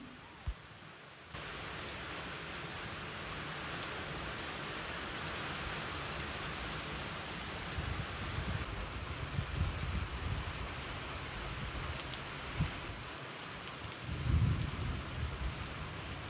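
Heavy rain with strong wind pours down steadily at a farm, a dense continuous roar of drops on surfaces with faint rumbles, no voices.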